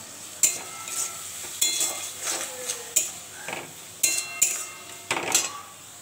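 Poppy seed paste going into a pan for aloo posto, with several sharp clinks and scrapes of a utensil against the pan over a low background sizzle, close and fairly quiet, no talking.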